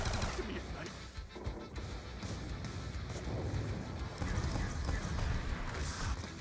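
RPD light machine gun fire in Call of Duty Black Ops II's Tranzit zombies mode comes as dense, sustained automatic bursts mixed with crashing game effects, moderately loud and nearly continuous throughout.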